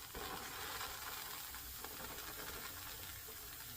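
A Gravel steam iron hisses steadily while shaping a flat top hat, a continuous close, breathy hiss of steam running without pause and without talk.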